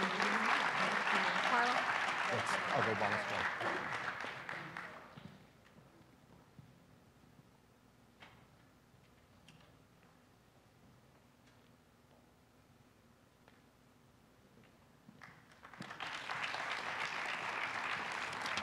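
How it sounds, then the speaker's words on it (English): At an awards ceremony, an audience claps loudly for about five seconds, then the room goes quiet under soft talk before a second round of applause swells up near the end. "let's give her a round of applause"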